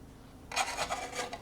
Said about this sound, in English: And then just come in with a scribe.